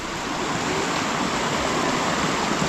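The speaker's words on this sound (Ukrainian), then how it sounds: "яка вона повноводна річка" A full, fast-flowing Carpathian mountain river swollen by heavy rains rushes continuously nearby, a steady broad roar of churning water with no voices.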